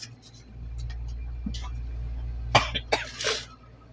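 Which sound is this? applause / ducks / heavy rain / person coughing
person coughing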